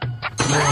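A mobile phone rings close by in a short, loud burst, its ringtone tone held steady under a brief wash of noise.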